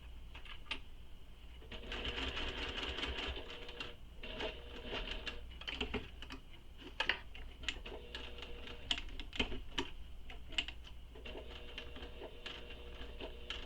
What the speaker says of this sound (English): So using the seam allowance in the pattern, sew across this